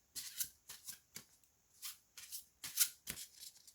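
Oracle cards being shuffled by hand in a series of quick riffling bursts, about eight short crisp flurries separated by brief pauses, close and fairly quiet with no voices.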